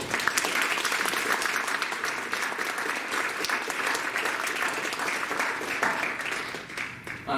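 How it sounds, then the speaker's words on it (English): Sustained audience applause for panelists at an education symposium, steady dense clapping at even loudness throughout with no speech over it. "if we could give them a nice round of applause"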